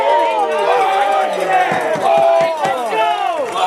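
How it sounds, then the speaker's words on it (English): Wildcat fans at a high school baseball area playoff game cheer and yell in a loud, continuous crowd roar, with voices rising and falling throughout. "You can hear the crowd there."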